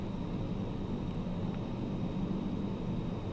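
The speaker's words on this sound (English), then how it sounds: "I don't know why my plane was just like making a vibrating noise." Steady low vibrating drone of a small plane's engine in Microsoft Flight Simulator 2020 during a bush flight, a constant hum with no talk over it.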